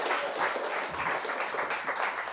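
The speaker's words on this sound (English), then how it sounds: "If you could give me a round of applause as I go over to this microphone" An audience applauds with steady, dense clapping that continues without a break, filling the room at an evening comedy event.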